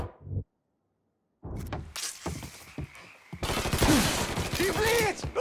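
Gunfire and shotgun blasts in Mafia 3 erupt after a brief silence as dense, rapid shots mixed with heavier booms, overlapped by shouting voices in the middle of a chaotic firefight.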